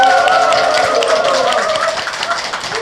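Studio audience clapping to open a Korean current-affairs talk show, a short, close burst of applause that gradually thins out over a few seconds.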